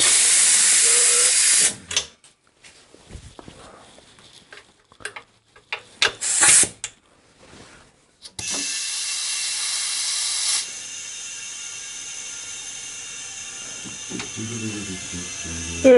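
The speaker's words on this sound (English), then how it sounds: "I'm going to raise this lift up real careful and real quick" A lift raising a Harley Shovelhead motorcycle in a workshop: loud pneumatic hissing bursts, a stretch of clicks and short blasts, then a long steady hiss that drops to a quieter continuous hiss near the end, with no talk.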